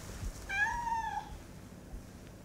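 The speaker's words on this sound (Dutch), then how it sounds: "Heel erg hard aan het miauwen was hij. Miauw, miauw, miauw." A kitten found on a sidewalk gives a single clear, drawn-out meow, close and moderately loud, against a low rumbling background.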